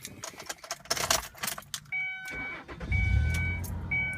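Keys jangle near the ignition of a 2002 Ford Escape XLT with 138,617 miles and a rebuilt transmission, then the engine cranks and catches, settling into a steady close idle.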